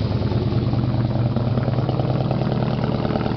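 A supercharged engine with a blower idles steadily and loudly, with a deep rumbling low end and a fast, even lope that carries through the whole stretch with no voices over it.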